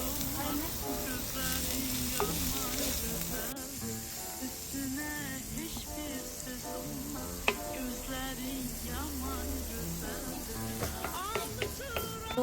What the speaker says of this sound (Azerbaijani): Yağla soğanı əvvəlcə biraz pişiririk.